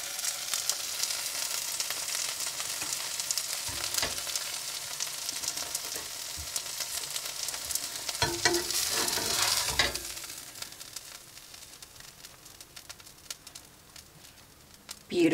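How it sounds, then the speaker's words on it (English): Turkey sausage and an egg fry in a pan on a stove in a truck camper, a steady broadband sizzle with occasional stirring clatter and scraping, louder bursts near the middle and a clunk at the end. "I'm just going to fry up a couple turkey sausage."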